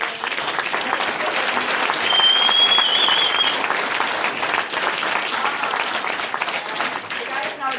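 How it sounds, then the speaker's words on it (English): Sustained audience applause after a training session, dense steady clapping from a crowd at a fairly loud level throughout, with faint voices and a brief whistle mixed into the clatter. "please, let's give her a huge round of applause for doing an amazing training"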